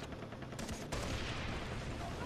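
A gunshot hits a barrel in the Far Cry 3 co-op game: a few quick, quieter shots, then one loud, sharp report with a lingering rumbling tail that carries on to the end.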